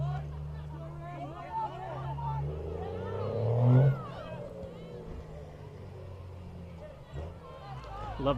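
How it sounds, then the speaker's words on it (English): A big-sounding truck engine revs loudly nearby at a high school varsity soccer game, rising to a strong swell midway through, amid crowd chatter and ambient voices. "Listen to him over there. Sounds like he's a truck."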